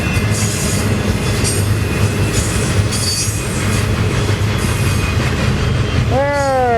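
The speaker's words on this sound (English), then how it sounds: "I can see the end locomotive here." A BNSF ES44C4 locomotive hauling a double-stack freight train rolls past eastbound with a steady rumble and rattling cars, ending in sharp wheel squeals.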